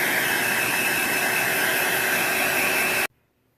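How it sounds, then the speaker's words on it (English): A blow dryer blasting air onto a water spot being fixed, a loud steady whooshing roar close by that cuts off abruptly near the end, leaving near silence. "And then again, blow dry."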